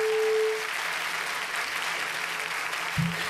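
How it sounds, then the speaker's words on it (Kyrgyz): Audience applause at a Kyrgyz song performance, a steady wash of clapping heard throughout, with a brief tonal note near the start and a short thump near the end. "кол чабуулар сизге"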